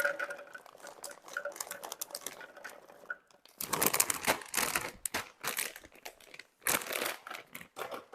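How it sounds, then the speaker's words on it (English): A bag of freeze-dried minced garlic crinkles as it is opened, then the dry pieces rattle and patter loudly as they are dumped into a Ninja blender jar, close and busy with no talking. "I'm simply going to open the bag, dump about half of this garlic in here."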